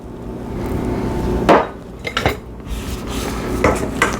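Mozzarella, cauliflower and eggs being mixed by hand in a bowl, with a sharp clink of utensil on dish and several softer knocks over a low background hum.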